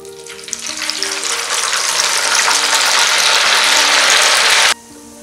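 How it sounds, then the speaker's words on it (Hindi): Noodles deep-fry in hot oil for crispy Chinese bhel, the bubbling sizzle swelling loud and steady for several seconds before cutting off abruptly near the end, leaving a quiet hum. "इसी तरीके से हम बाकी के नूडल भी फ्राई कर लेंगे।"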